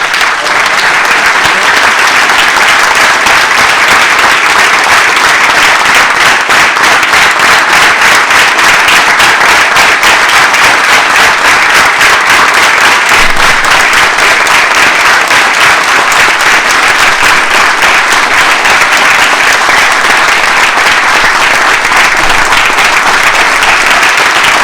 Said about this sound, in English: I want to do another round of applause